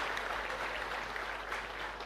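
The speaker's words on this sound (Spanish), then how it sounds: "un fuerte aplauso para estos que terminan la primaria" Congregation clapping at a Catholic Mass in a chapel, applauding students finishing primary school; steady, diffuse applause fills the whole short stretch at a modest, distant level with no voices over it.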